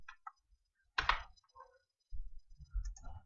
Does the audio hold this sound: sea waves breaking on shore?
no